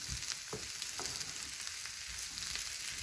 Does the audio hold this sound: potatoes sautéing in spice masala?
yes